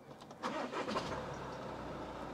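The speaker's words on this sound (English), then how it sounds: "So at the moment, when you turn the ignition on," A car engine cranks and starts as the ignition is turned on, catching after a brief starter whir and settling into a steady idle, heard close and alone.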